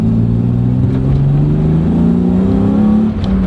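A BMW E36 M3 with an aFe cold air intake, heard from inside the cabin as a loud, steady engine drone with rising induction tones as the revs climb smoothly.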